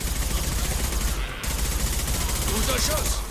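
Rapid bursts of gunfire in the video game Mass Effect 2 crackle continuously at close range, with a brief gap before the shooting resumes.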